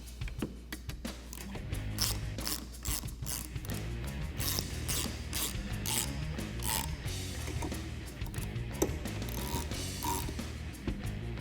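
Rapid ratchet clicks tighten bolts on rear mounting brackets for ZRoadz 6-inch LED light bars on a 2007-2018 Jeep Wrangler JK, a close, steady clatter running the whole time over a continuous musical bed.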